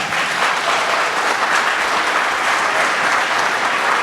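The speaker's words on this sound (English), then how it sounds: "I thought they were applauding for me that I was speaking next" An audience at a federal all-candidates debate in Perth-Wellington applauds, a dense, steady wash of clapping from many hands that stays loud and even for the whole moment, with no voices over it.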